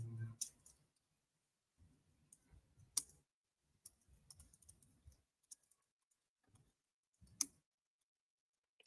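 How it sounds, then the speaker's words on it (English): Fingers type on a computer keyboard in quiet bursts of soft clicking, with short pauses between runs and a few sharper key taps standing out. "and I keep typing"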